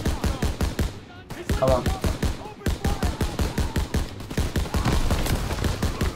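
A mounted MG fires in sustained rapid bursts in the Call of Duty WWII campaign, loud and close with a tight, regular rhythm and only brief gaps, while a player speaks briefly over it.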